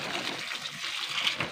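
Water poured from a bucket to water plants, a brief steady splashing gush, close and fairly soft.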